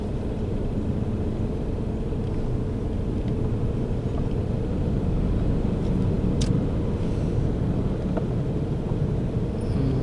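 Slow, congested road traffic on the way to Universitas Jambi, a steady low rumble of engines and tires close by, continuous throughout with a few faint horn-like tones over it.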